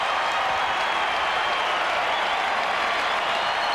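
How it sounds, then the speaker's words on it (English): A hockey arena crowd at a 1995 St. Louis Blues at Dallas Stars game applauds a goalie's glove save, a steady, dense wash of clapping and crowd roar holding evenly throughout. "He's putting on a show, and the crowd's loving it"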